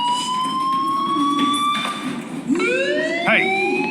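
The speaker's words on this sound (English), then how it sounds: "Hey, do you hear that fire alarm? That means you should be outside." In the video game Life Is Strange, a loud fire alarm wails with a rising, siren-like tone. It holds steady and then sweeps upward again partway through, with no talking over it.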